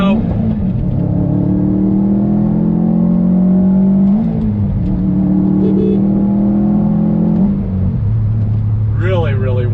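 A 2020 Ford Mustang GT or Subaru WRX STI engine pulls hard on throttle out of a bend, its rising drone building steadily and loud with a brief shift dip mid-way, then settling lower near the end.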